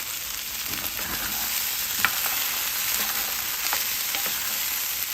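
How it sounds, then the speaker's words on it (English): Green chile stew being stirred in a cast iron pan with a hard spoon: a steady sizzle runs throughout, broken by scattered scraping and clicking strokes of the spoon, close and moderately loud, with no talking. "I think since I'm using a cast iron pan, I am going to use a harder spoon."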